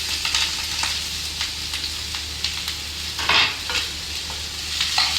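Onion frying in a little oil in a pan for an omelette, an even close sizzle with repeated stirring scrapes and a steady low background hum.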